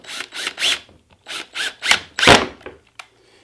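A screw being driven to fasten a scrap stop block down beside a router on a woodworking jig, heard as several close, gritty bursts of drilling and rubbing with short pauses between them, ending in a louder, longer burst.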